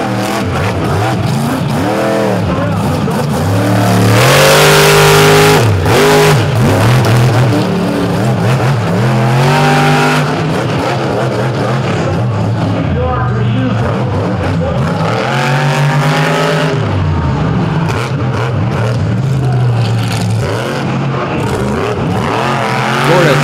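The Bad Company monster truck, driven by John Gordon, races a track at the Back to School Bash in Charlotte with a loud, continuous engine roar that rises and falls as it revs.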